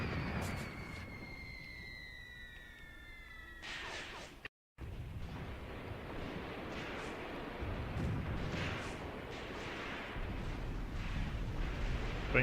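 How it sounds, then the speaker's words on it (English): A pre-planned artillery barrage in Graviteam Tactics rumbles steadily in the distance, with muffled booms and whooshing blasts rolling on as a continuous low roar. "that's actually my own pre-planned barrage"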